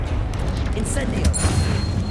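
A fire spell being cast in the Hogwarts Legacy game: a whooshing burst and booming impact over a dense, rumbling game soundscape, with a voice speaking alongside.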